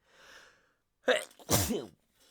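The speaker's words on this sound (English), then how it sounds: "I feel a sneeze coming on" A single loud, close sneeze with a sharp intake of breath just before it and a forceful burst, following a faint breathy lead-in.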